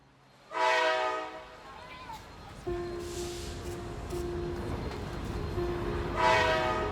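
Horn of an overnight passenger train bound for Luxor in Egypt, two loud blasts at the start and end, with steady rail rumble and a lower tone droning between them.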